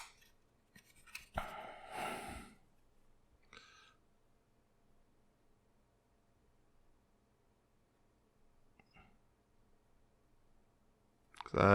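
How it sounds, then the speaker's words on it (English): Paper torn in short bursts while building a Nendoroid Truck-kun model, with one loud close rip near the start and a few fainter tears later in an otherwise quiet room. "I'm going to be tearing paper just a little bit."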